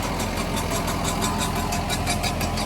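Tractor pulling a rotavator in a high gear, its engine running steadily with a continuous mid-pitched drone and mechanical clatter, loud and close throughout with no talk.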